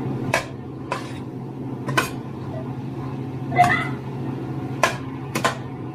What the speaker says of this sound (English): just mix them all and let's stir it again for